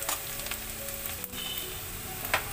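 Onions frying in oil in a pan for a Bengali silver cup fish recipe, a steady soft sizzle with occasional stirring scrapes, close and alone.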